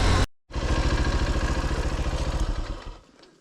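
Motorcycles riding home from a motorcycle festival in Pereiaslav, Ukraine, one engine running close with a steady pulsing throb that fades out near the end after a brief cut at the start.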